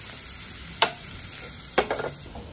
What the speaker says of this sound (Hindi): थोड़ा सा फ्राई हो जाए बस